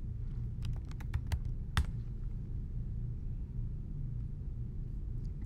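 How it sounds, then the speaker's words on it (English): Typing on a computer keyboard, a few quick key clicks in a short burst followed by a single louder tap and then quiet, all over a low room rumble. "you can click the box and start typing"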